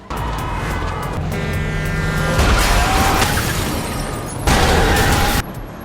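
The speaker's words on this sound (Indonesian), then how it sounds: "Mobilnya ditabrak truk." A car is struck by a truck in an action-film crash, heard as a loud, dense burst of impact, crunching metal and shattering that swells midway and hits again with a sharp second surge before cutting off, with no talk.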